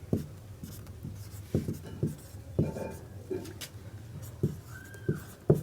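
Pen writing notes during a Hindi history lesson, a series of short scratching strokes and taps in irregular rhythm, fairly close and clear, with no talk over them.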